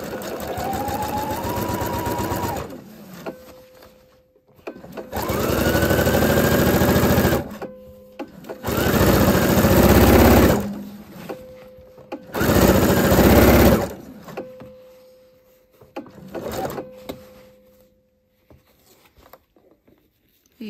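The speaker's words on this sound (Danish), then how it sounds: "Og så er vi klar til at sy rundt om lommen." Sewing machine stitching around a welt pocket, several loud close bursts of fast stitching separated by short quiet pauses.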